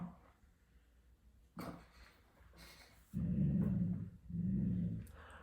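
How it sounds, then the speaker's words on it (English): A dog growls indoors, low rumbling growls in two sustained bursts after some quieter shuffling and faint sounds, fairly faint overall with no talking. "My dog's growling."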